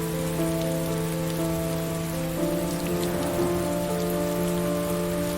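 Steady rain falls throughout a scene in the video game Heavy Rain, a constant hiss over sustained low musical tones that shift slightly partway through.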